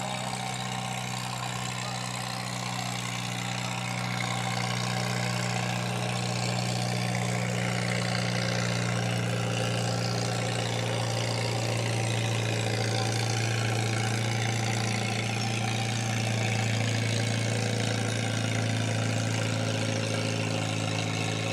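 A Farmall tractor's engine runs at a county fair barnyard tractor pull, a steady, loud low rumble with a droning mechanical hum that swells slightly in the second half, continuous and close, with no voices.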